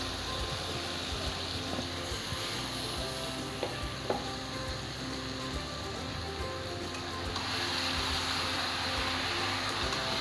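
Chicken sautéing in a pan for a Bengali-style chicken curry with potato, a steady close sizzle with occasional stirring scrapes, continuous and fairly loud, with no talking.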